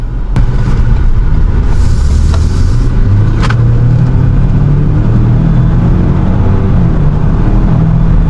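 A 2025 Ford Ranger Raptor turbo pickup's engine roars steadily, pitch climbing as it accelerates, with a brief crack partway through as a gear changes.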